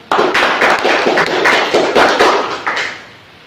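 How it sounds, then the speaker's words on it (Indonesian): Classroom clapping after a student presentation on blameworthy traits, a burst of fairly loud, close hand claps in a quick uneven rhythm that fades out near the end. "Tepuk tangan."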